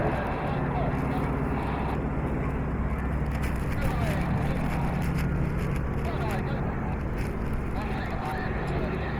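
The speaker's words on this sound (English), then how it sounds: "Piloting the Stearman aircraft you can see here today." A Stearman biplane carries wing walkers at an airshow, its droning engine a steady continuous roar throughout under a commentator's talk.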